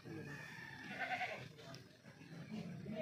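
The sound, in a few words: goat bleating on a goat farm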